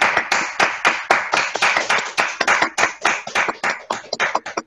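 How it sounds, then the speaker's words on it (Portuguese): Participants on a Zoom call clap together, a fast irregular patter of hand claps that runs loud and continuous, swelling and thinning slightly, with no speech over it. "eu vou pedir para as pessoas para darem aqui umas palmas"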